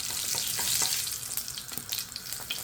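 Garlic hitting hot oil in a home kitchen, a bright continuous sizzle and crackle with small popping bursts, close and steady throughout with no voices.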